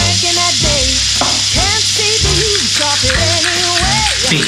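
Shrimp frying in a hot pan with oil, garlic, parsley and chili, a steady loud sizzle running throughout with clinks and scraping stir sounds on top.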